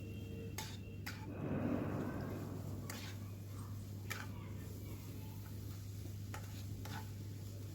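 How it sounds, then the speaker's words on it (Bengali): Sugar being stirred into grated carrots for carrot halwa, a soft, steady scraping and swishing in the pan with faint sizzling, a few sharper clinks, and no voice over it. "লবণটা দিয়ে এবার ভালো করে গাজরের সাথে চিনিটাকে মিশিয়ে নিতে হবে।"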